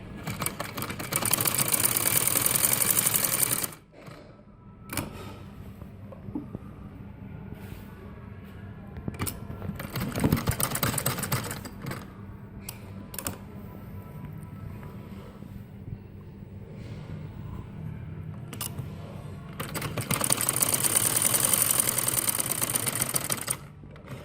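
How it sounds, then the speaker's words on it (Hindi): A sewing machine stitches a folded fabric strip for a salwar nefa, running in three fast, whirring bursts separated by quieter pauses with faint handling noise. "इस तरह मैंने इसको फोल्ड कर लिया और अब मैं इसको सिलाई लगाऊंगी।"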